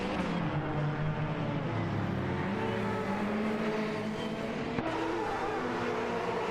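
Aston Martin AMR1 and Porsche 962C Longtail race cars in a racing video game roar together in a sustained, loud engine drone, pitch rising and shifting as they run close, with a brief sharp tick near the end.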